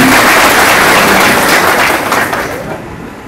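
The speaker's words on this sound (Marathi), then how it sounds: "आपण टाळ्या वाजवून त्यांचं स्वागत करावं" Crowd applause welcoming a newly joined officer at a peace committee meeting in Khamgaon ahead of Ganesh festival and Eid-e-Milad, a dense, steady roar of many hands close by that gradually thins and fades toward the end.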